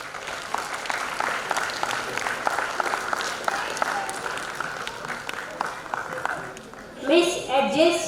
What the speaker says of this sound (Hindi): तालियां बजती रहनी चाहिए दोस्तों, तालियों में कंजूसी नहीं